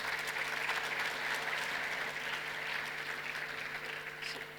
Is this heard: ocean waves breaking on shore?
no